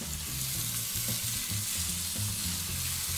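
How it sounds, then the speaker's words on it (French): Ibaïona pork sizzles in a cast-iron pot on an induction hob at medium power, a steady, close frying crackle with no talk. "On entend le frétillement."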